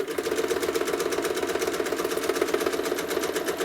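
A quilting machine stitches feathered quilting designs in a rapid, even mechanical chatter, close and continuous throughout with no talk.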